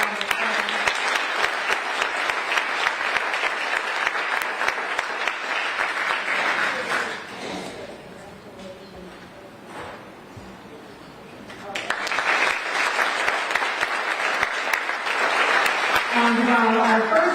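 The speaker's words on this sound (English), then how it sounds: "help me give another round of applause" An audience at an award ceremony for community honorees applauds steadily, the clapping thinning to a quieter lull midway before swelling again to a full, sustained round.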